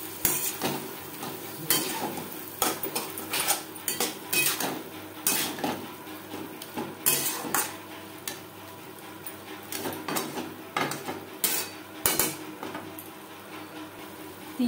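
Potatoes tossed with spices and a little water in a pan, producing frequent sharp clinks and scrapes of a utensil against metal over a low steady background, close and without speech.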